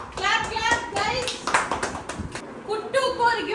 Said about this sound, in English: clap, clap, guys.